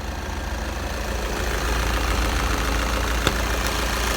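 A VW Passat B7 engine idles under the raised hood, a steady low rumble with even, continuous hum and one brief click partway through.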